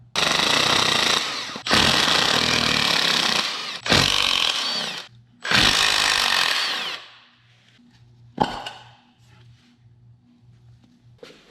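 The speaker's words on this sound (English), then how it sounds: "So now I'm gonna take these bolts off of the stator" Impact wrench or power tool zipping bolts off a motorcycle stator cover on a Yamaha R6 being rebuilt, in four loud, close bursts of a couple of seconds each, followed by a quieter low hum and one sharp clank.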